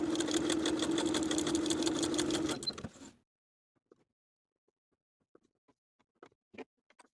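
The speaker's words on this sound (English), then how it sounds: "Then I'll sew from the top to the bottom of the dart, leaving thread tails at the end so I can tie them in knots." Sewing machine runs in a fast, rhythmic chatter while stitching darts on wide-leg pants, then stops after about three seconds, followed by quiet scattered clicks and handling sounds.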